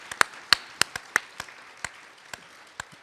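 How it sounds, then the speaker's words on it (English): Sparse applause at a political candidates' forum: about ten separate, crisp claps spaced unevenly over a quiet room tone. It sounds like only a handful of people are clapping, and no one is talking. "How about a round of applause for a great convention that's already happening?"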